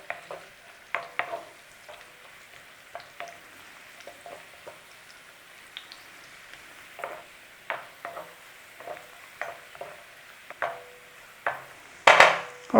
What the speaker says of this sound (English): We want the raisins to puff up and the cashews to have a light toasting.